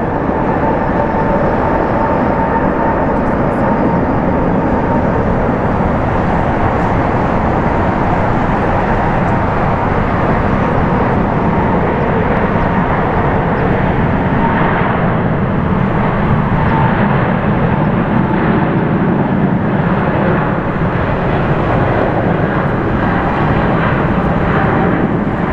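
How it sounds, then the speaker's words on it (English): A Philippine Airlines Boeing 777-300ER rolls down the runway for takeoff, a loud sustained jet engine roar that holds steady and dense throughout, with no voices. "Philippine 113 Heavy, runway 7 left, clear for takeoff"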